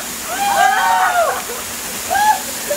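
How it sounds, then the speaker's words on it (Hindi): A small waterfall in an Andaman jungle near Port Blair makes a steady, close rushing wash. A voice speaks over it in short bursts throughout. "एंड लिटरली यार छोटा सा वाटरफॉल है बट बहुत ही सही है।"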